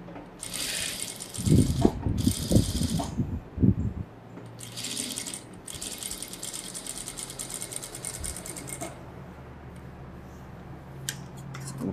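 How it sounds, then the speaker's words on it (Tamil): A sewing machine stitching a blouse, with rapid mechanical whirring bursts that start and stop between pauses, close and fairly loud, alongside a few clicking handling noises. "அப்படியே தையல் போடணும்"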